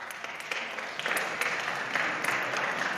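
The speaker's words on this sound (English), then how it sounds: "Although the applause is well earned." Audience applause after an evening talk on faith and polarization, a moderate, steady patter of many hands clapping in a hall, heard alone without talk.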